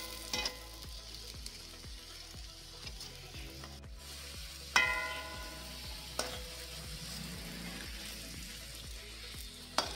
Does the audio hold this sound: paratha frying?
yes